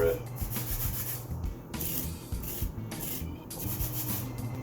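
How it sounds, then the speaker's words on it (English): A whole lemon is rubbed against a handheld zester, giving a soft, close scraping in repeated strokes while making white pesto, fairly quiet with no voices. "You're going to zest this whole lemon. Get yourself a zester."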